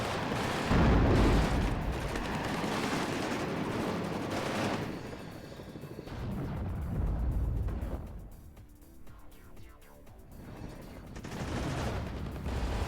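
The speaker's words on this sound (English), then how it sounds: "My flamethrowers are engaging now." Flamethrowers firing in the war strategy game WARNO, a loud continuous roaring, crackling blast that swells and fades in long bursts over dense rumbling battle noise, with a quieter gap near the middle.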